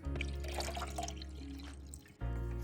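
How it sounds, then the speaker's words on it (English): Water pours steadily into the tank of an AMZCHEF espresso coffee machine, a continuous close splashing that runs for a couple of seconds, dips briefly, then resumes with no talking. "you need to go ahead and fill this up with water"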